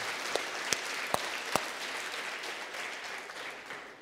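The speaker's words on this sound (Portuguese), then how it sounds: "Vamos aplaudir para ver se dá uma animada." Light applause from a church congregation during a sermon, with a few sharp isolated claps at first over a soft steady patter of hands.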